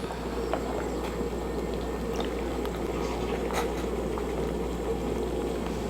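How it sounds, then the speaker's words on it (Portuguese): Large pot of water heating for chicken breast, a steady close bubbling simmer with a low constant hum beneath and faint scattered pops, no talk. "O passo seguinte é ferver bastante água"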